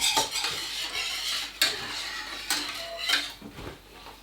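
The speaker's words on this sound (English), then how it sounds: "with a whisk, we're going to gradually add our milk" A whisk beats milk into a sauce for mac and cheese lasagne, with rapid metallic scraping and clinking against the pan. Several sharper taps break up the continuous close stirring.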